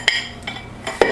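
A ceramic ramekin being flipped over onto a plate for a lava cake, giving three or four short close clinks and taps in quick succession.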